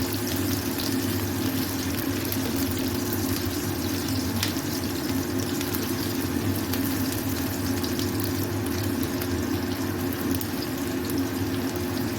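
Boal fish head and onions fry in hot oil, giving a steady, even sizzle that continues without a break over a constant low hum, with no talking.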